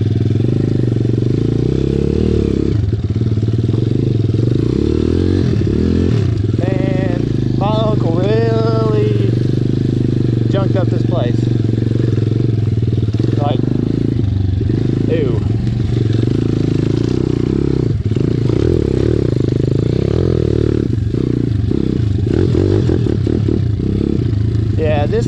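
An SSR 170TX pit bike runs in a backyard track setting, its engine idling low and steady with a few brief revs rising and falling, while people talk over it.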